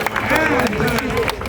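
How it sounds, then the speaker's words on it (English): An audience at a Renaissance fair claps and cheers for a performer, a brief dense burst of applause mixed with crowd voices and chatter. "there is a nice round of applause for Siler!"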